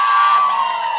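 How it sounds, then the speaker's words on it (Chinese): A concert audience cheers and screams in a loud, sustained crowd roar that fades slightly toward the end, with high shrieks rising above the din. "再活泼一点，尖叫"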